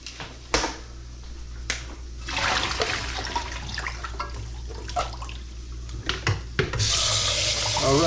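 Cold tap water runs over cooked noodles in a kitchen sink, a steady hiss and splash with a few clunks and knocks of handling, swelling louder as the flow increases near the end.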